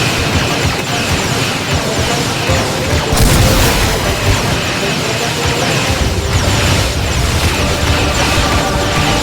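A tank blows up in a Men of War battle game with a Star Wars setting: dense, continuous loud booms and crashing blasts with mechanical clatter, an especially heavy burst around the third second, no voices.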